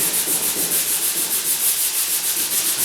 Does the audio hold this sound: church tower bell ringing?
no